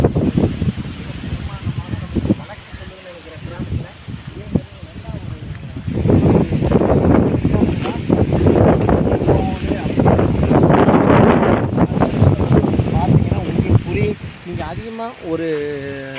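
Wind blows strongly outdoors along a village road, rumbling and buffeting the microphone and swelling louder midway, while someone talks over it throughout.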